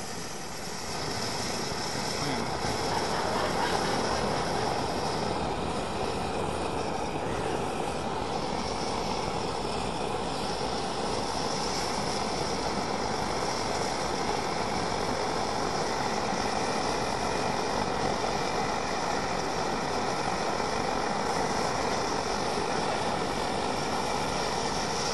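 An MSR XGK camping stove burns steadily after its valve is turned, giving a loud, continuous roaring rush like a jet with no break across the whole stretch.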